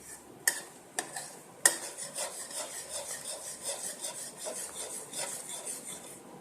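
A spoon scrapes and stirs cardamom powder into thick rabri in a pot, with a few sharp clicks against the rim at the start followed by a steady, soft rhythmic rubbing close by.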